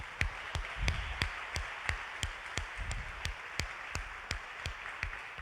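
Applause from a church congregation at a Catholic service: a steady stream of crisp, overlapping hand claps, fairly loud and close, with no voices over it.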